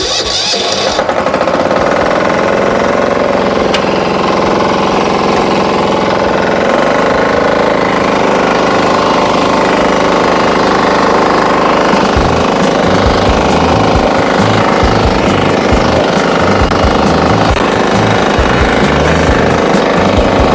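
A Firman FTI2010DE mini four-wheel tractor works a dry field in first gear, its engine hammering loudly and continuously close by, and a rotary tiller adds a rougher, chopping churn partway through.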